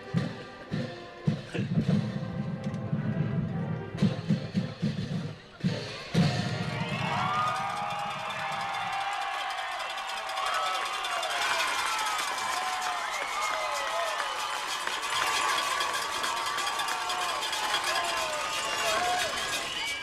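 A football crowd at the Herd versus Plainview game erupts into loud sustained cheering and shouting after a stretch of thumping and announcer talk, the roar swelling and holding to the end.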